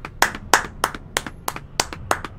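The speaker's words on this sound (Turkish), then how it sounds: "Ben de alkışlıyorum. Alkışlıyoruz." Evenly spaced hand claps ring out, about eight crisp, loud claps in a steady rhythm with no one talking over them.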